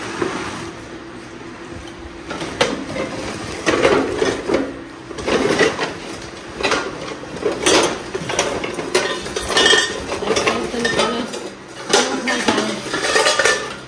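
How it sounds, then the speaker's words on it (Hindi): Dishes and metal utensils are lifted out and handled in a village home, producing repeated clattering clinks and scraping knocks in irregular bursts, fairly close, with no speech. "इसको इधर रख देते हैं और निकालते हैं बर्तन।"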